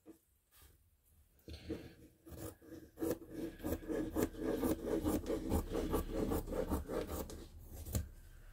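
Scissors cut through fabric for a gown in a run of close, crisp snipping and rasping strokes that build into a steady quick rhythm, with no talk.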